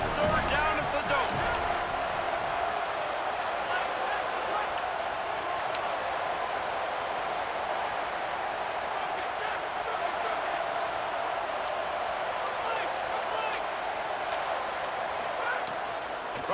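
A dome stadium crowd roars steadily on third down in the College Football 27 game against Clemson. The noise is a loud, constant wash of sound, with a commentator's voice faintly underneath.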